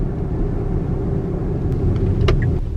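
A Tesla Model Y drives along on a sunny day, heard as a steady low road rumble and tyre hum from inside the car, with a brief higher tick near the end.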